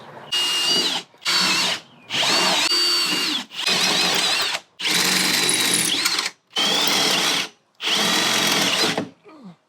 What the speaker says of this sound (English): So I'm going to start drilling these out real quick.